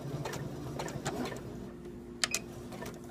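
A home sewing machine runs a short burst of stitching and back stitching on a simple pad, soft rapid clicking that pauses before a couple of sharp ticks near the end.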